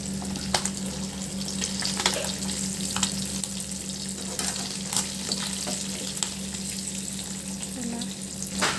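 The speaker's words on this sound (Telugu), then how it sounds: "మొత్తం ఫ్రై చేసుకుంటానండి." Fish frying in a pan of hot oil gives a continuous close sizzle with faint crackles and occasional sharp spatters, steady throughout with no speech.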